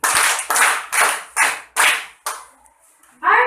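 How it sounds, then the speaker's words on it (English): An audience claps to welcome a debate judge, the applause coming in six distinct rhythmic bursts like short rounds of clapping, then fading before a new sound starts at the end. "A round of applause to Mrs. Maria Erlenda L. Moneva."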